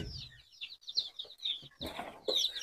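Newly hatched native chicks in an egg incubator give high, thin peeping chirps in rapid overlapping bursts, heard close but soft, with faint rustling beneath and no talking.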